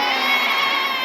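An audience at an Islamic lecture imitates a goat, many voices shouting a bleating "mbek" together in one loud, sustained crowd cry.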